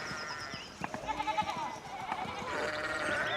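Sheep in the video game Pentiment bleat repeatedly in wavering, harmonic calls over a steady pastoral background, several bleats overlapping at moderate volume with a faint voice briefly present.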